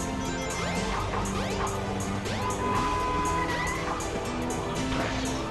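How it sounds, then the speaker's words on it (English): Glass panes smashing in the video game Sonic Adventure, a run of crashing breaks and tinkling shards that continues through the stretch over busy game music and effects. "falling through, you know, 4 panes of glass is perfectly fine"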